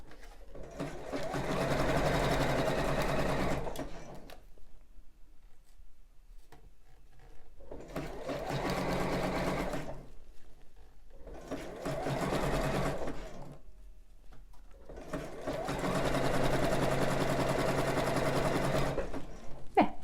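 A sewing machine stitches around a bra's gothic arch in four separate bursts of steady motor hum, each run lasting a few seconds with brief quiet pauses between.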